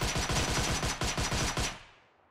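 Rapid automatic bursts from a Scorpion submachine gun in PUBG Mobile, a fast, steady rattle of close, loud shots lasting under two seconds before cutting off into a short decaying tail.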